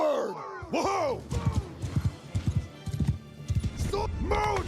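Horses galloping in the War Sails video game, a rapid run of hoofbeats under shouted battle commands, with a horse whinny and battlefield voices around it.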